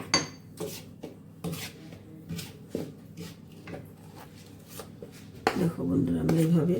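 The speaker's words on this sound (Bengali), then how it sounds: "দেখো বন্ধুরা, আমি এইভাবে তেল আর চিনি একসাথে মিশিয়ে নিচ্ছি।" Flour, oil and sugar are stirred together in a bowl for homemade stovetop biscuits, a spoon scraping and clinking against the bowl in a steady rhythm of soft strokes, with a louder burst of scraping near the end.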